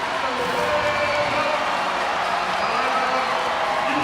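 A large home crowd at a record-attendance volleyball match between the NC State Wolfpack and North Carolina Tar Heels cheers after an ace, a loud, sustained roar filling the whole stretch without letup.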